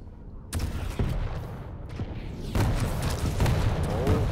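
Rocket fire in an arena shooter match, several sharp blasts and booming hits in quick succession, loud against continuous game noise.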